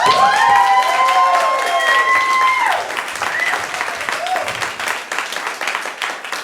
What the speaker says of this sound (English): we're gonna welcome our team now with a warm round of applause